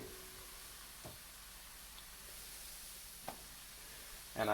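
A tortilla heats in a pan with a faint, steady hiss and soft sizzle, broken by a few light knocks and a louder clatter at the very end.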